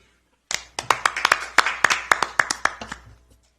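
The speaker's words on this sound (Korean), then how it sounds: "박수 부탁드리겠습니다" At a Democratic Party press conference in Korea, a small group greets the introduction of a former police superintendent with about a dozen distinct, sharp handclaps that start after a brief silence, then thin out and stop.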